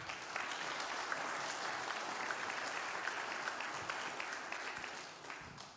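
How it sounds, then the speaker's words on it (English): Steady applause from an audience following a history talk by author Stephen Shaw, a dense wash of clapping that fills the whole stretch at an even level before tapering slightly near the end. "One more round of applause"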